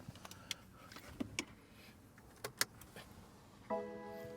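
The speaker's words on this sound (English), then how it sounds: "So let's turn the vehicle on." A 2017 BMW X3 being switched on: scattered soft clicks and ticks, then a steady electronic tone that starts abruptly near the end, all fairly quiet.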